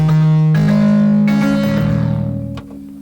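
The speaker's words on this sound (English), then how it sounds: "stereo echo" Synth notes from a Yamaha TG77/SY77 sustaining loudly through a stereo echo effect, several chord attacks followed by decaying repeats that fade toward the end.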